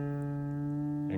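A single guitar string rings steadily as it is tuned down, one sustained near tone fading slightly before a brief touch at the end.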